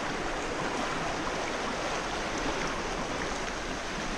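Fast, cold river current in New Zealand trout water, a steady broadband rushing and gurgling close by with no talk over it.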